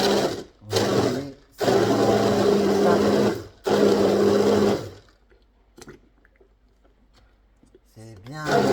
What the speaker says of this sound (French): Maintenant, c'est juste à mixer les kiwis et tous les restes